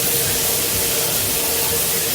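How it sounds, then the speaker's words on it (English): Water runs steadily in preparation for a cleansing ritual, a dense, even hiss filling the background without pause. "The sound you hear in the background is the water that is preparing to cleanse my body"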